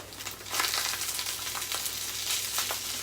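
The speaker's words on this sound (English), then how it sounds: "while this is frying" Vegetable fried rice with plant-based egg sizzles steadily in a pan, a continuous close hiss of frying with small crackles and no talking.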